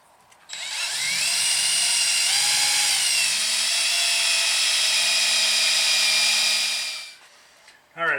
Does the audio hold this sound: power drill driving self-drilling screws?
yes